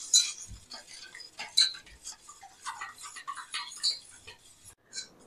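A spoon stirs chili flakes into gourd papad batter in a bowl, giving a string of quiet, irregular clinks and scrapes spread across several seconds, close and fairly faint, with no talking.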